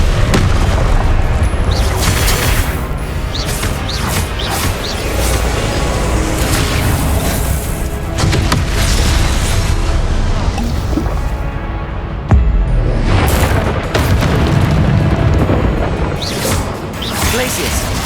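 Confringo spells blast in Hogwarts Legacy amid a hectic duel, loud booms and whooshes piling up almost without pause, with a brief hush partway through before the din returns.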